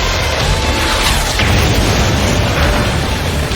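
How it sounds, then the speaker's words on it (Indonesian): Grenade launcher rounds fired repeatedly against a castle wall in an anime burst as loud, continuous explosions that blend into a dense, roaring barrage throughout. "Dia nembakin pelontar granatnya bertubi-tubi ke arah tembok kastil, bikin ledakan gede buat ngeratain pertahanan musuh di atas sana."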